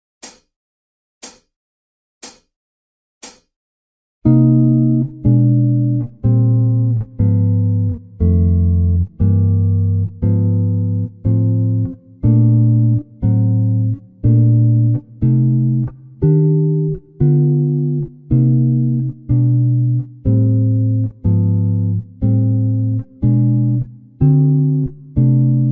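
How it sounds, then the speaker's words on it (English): Jazz guitar plays walking three-note chords over jazz standard changes on the 3rd, 4th and 6th strings, starting with four sharp count-in clicks, then a steady stream of evenly spaced plucked chords, close and clear with no voice. "we'll be left with a 3-note chord in each instance, and the notes will be played on the 3rd string, 4th string, and 6th string"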